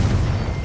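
A short, deep blast from the Confringo fire spell in Hogwarts Legacy: one dull, booming low-end burst that rumbles for under a second with no voices.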